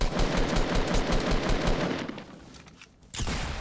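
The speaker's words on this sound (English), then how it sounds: "he shot me through my wall" Rapid gunfire in the Fortnite Battle Royale video game, a loud sustained burst of fast shots that thins out, pauses briefly, then resumes, with no voices.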